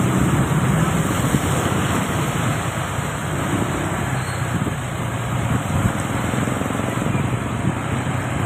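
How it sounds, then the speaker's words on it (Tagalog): Strong river current rushes steadily near a market setting, a dense, continuous broadband roar holding constant loudness throughout with no speech. "Kaya malakas yung agos."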